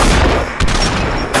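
A DT-11 shotgun fires in the VR video game Population One. Loud, close blasts ring out, with a sharp report near the middle and another at the end, over a dense, noisy game background.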